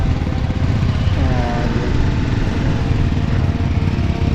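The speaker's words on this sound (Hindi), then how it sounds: "और अभी ये दोनों बाइक भी हमारे साथ ही चल रही हैं।" Motorbikes ride together on a snowy Ladakh mountain road near Shinku La, their engines a steady, rough, close drone with wind rumble and no break.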